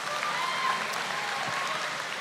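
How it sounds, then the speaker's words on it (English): Esports crowd at an MPL PH playoff event applauds steadily, a dense wash of clapping and cheering filling a large arena throughout. "Once again, please give yourselves another round of applause."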